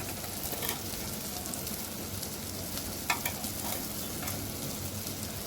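Bitter gourd curry with spices being stirred in a pan, a continuous sizzle of frying with a few light scrapes and taps of the spoon.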